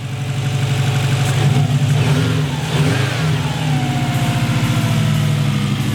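A Subaru engine swapped into a car idles steadily at a slightly high, even rumble, close and loud, with a brief dip and recovery midway.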